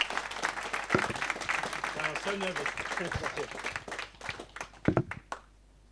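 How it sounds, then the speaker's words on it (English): An audience at a WordPress London meetup gives a big round of applause after a talk, a dense patter of clapping under a nearby voice that thins into a few scattered claps before fading to quiet. "just a big round of applause"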